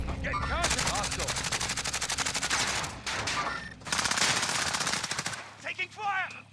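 Gunfire in the video game Warzone: long rapid bursts of loud automatic weapon fire with short pauses, close and dense, with shouted voices mixed in.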